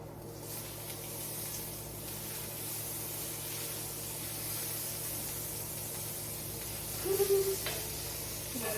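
Butter sizzles and hisses in a hot pan for a steak and potato dinner, a steady soft frying hiss throughout with a brief brighter crackle near the end.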